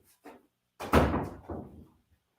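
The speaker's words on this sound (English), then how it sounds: "Let me go shut the door." A door is pushed shut with a soft knock, then a louder thudding slam that rings out briefly and is followed by a smaller bump, all close by with no talking.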